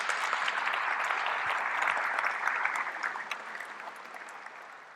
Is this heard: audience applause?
yes